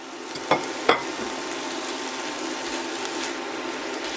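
Minced beef with parsley or coriander fries in a pan with a steady, close sizzle, and two quick spoon scrapes come early as it is stirred.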